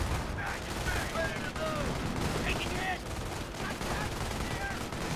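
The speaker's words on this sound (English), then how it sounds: "here we're gonna see the power of a rifle in this one" Sustained rifle fire in a video game rattles continuously, with overlapping bursts and a few whistling effects, loud and steady throughout.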